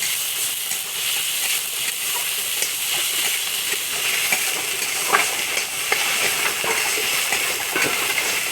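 Chopped onion and garlic frying in hot oil in a wok, a steady loud sizzle with occasional crackling pops and stirring scrapes, no voices.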